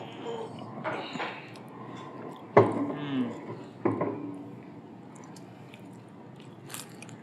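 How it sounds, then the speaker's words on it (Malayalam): A cutlet is bitten into close to the mic, with a couple of sharp crunchy bites and then softer chewing, under faint background voices. "നീ തൊടുമുന്നേ കടിച്ച് തിന്നു, നീ കടിച്ച് കൊതറ്."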